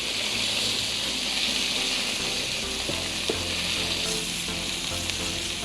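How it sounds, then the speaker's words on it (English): Food skewered with toothpicks sizzles steadily in a hot pan at a winter campsite, a dense, constant frying hiss with a few small pops and scrapes, close and without talk. "Throw it in the pan."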